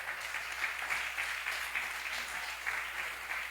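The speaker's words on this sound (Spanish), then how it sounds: "Dale un aplauso al Señor." A church congregation applauds with steady, dense clapping that stays even throughout, at moderate volume and with no talk over it.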